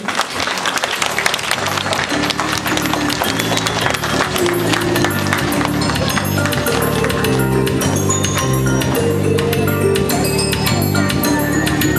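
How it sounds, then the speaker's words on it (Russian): An audience at a Day of Knowledge school ceremony claps for schoolchildren, a steady loud wash of applause running the whole time, with music and voices mixed in beneath it. "Давайте встретим их бурными аплодисментами"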